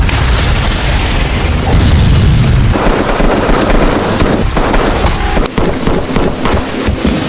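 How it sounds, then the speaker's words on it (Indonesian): Gunfire rages in a movie shootout with mafia henchmen: loud, dense bursts of rapid shots and heavy booms run almost continuously from start to end. "mereka semua beradu tembakan"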